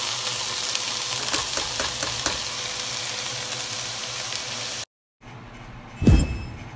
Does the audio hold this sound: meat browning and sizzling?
yes